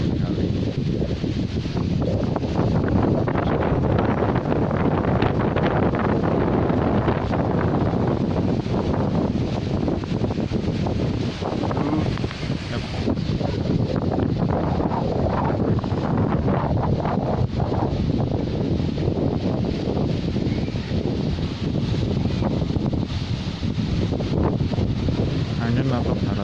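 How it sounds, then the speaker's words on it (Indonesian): Very strong wind on a stormy December day roars and buffets the microphone without a break, loud and close, with leaves rustling and water churning beneath it and a person speaking partly buried in the gusts. "Angin atau baratnya sangat kencang."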